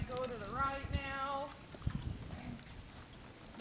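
A horse on a barrel-drill training pattern, its hooves clip-clopping in an uneven rhythm close by, with a voice over the first part and a brief whinny-like sound.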